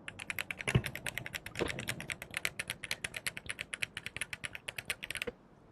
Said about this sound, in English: You like those keyboard clicky clacks?